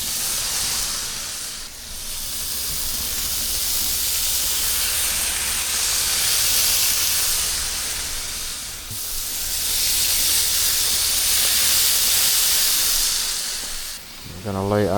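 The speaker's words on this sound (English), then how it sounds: "We are going to go ahead and put these burgers on the grill. And I'm also going to cook a few sausages as well." Loud, steady sizzling hiss of burgers and sausages frying on a hot Blackstone griddle, swelling and easing in long waves, with a short clatter near the end.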